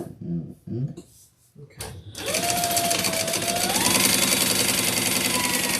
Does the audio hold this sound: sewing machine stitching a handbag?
yes